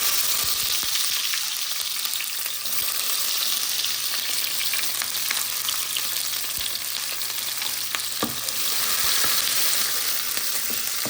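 Onions and garlic sizzle and fry steadily in a hot pan for tomato chutney, a dense continuous crackle with occasional stirring clicks and scrapes, close and fairly loud with no talking.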